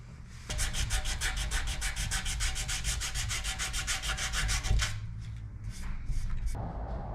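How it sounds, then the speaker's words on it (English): Body filler on a motorcycle gas tank, a Frisco-style tank for a hardtail, is sanded by hand in fast, rhythmic back-and-forth strokes, close and steady for about four seconds, then a few scattered rubbing and handling sounds. "Let's get to sanding."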